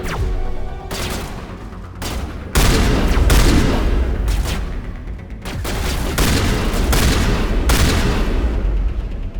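Sustained gunfire in Mass Effect, with dense bursts of shots and booming impacts nearly throughout, a sniper among them, loud and close with brief lulls between volleys.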